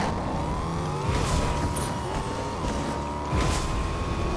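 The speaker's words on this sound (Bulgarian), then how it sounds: "Кола." A video game car engine drones at a steady pitch, shifting slightly as it drives, with a couple of brief bright bursts over the hum.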